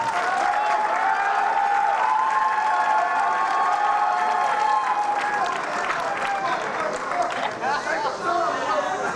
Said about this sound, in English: A round of applause for Marissa.